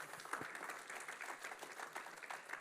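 A church congregation claps in praise, a faint, distant patter of many hands in a fairly regular rhythm with no other clear sounds.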